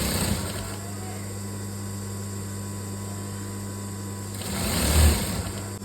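A sewing machine stitches a saree border onto a coat-model gown, running in a steady, continuous mechanical hum with slightly louder bursts at the start and end.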